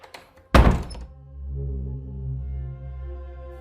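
A single loud, heavy thud against a door in the early hours, followed by a low lingering resonant hum; no knocking sequence follows.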